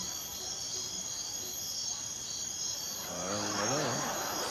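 A steady, shrill cicada-like insect buzz plays as a sound effect on a Filipino noontime game show, continuous and fairly loud, with a person's voice briefly joining near the end.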